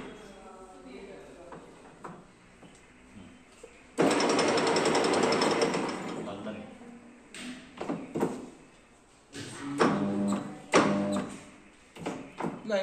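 A repaired lathe machine starts up and runs with a loud, dense mechanical rattle and whir, followed by uneven clanks and knocks. Someone talks over it at times.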